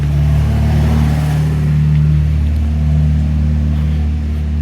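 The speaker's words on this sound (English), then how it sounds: "I just want to let that car pass" A passing car on the road, heard as a loud steady engine rumble with low tonal hum that swells and eases as it goes by, alone without talk.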